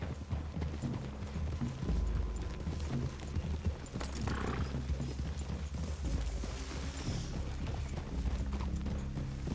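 Several horses walk along with steady hoof clip-clops in Red Dead Redemption 2, the hoofbeats close and clear over a low game ambience, with an occasional whinny and no talk.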